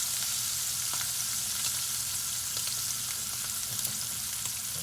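A ribeye steak sears in a hot pan, giving a steady, dense sizzle with scattered crackles and pops, loud and close, with no talking.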